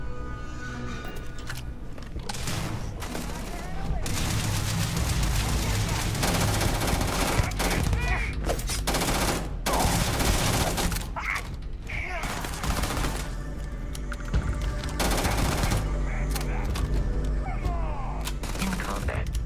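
Dense bursts of gunfire from the space game Starfield crackle almost nonstop through the whole stretch, loud and close, with background speech mixed under the shooting.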